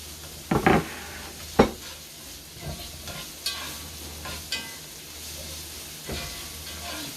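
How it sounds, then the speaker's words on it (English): Cherry tomatoes drop into a pan already sizzling with garlic, making a steady close sizzle broken by several sharp utensil clanks and stirring scrapes against the pan, with no talking. "Now I'm going to go in and add my tomatoes, my cherry tomatoes."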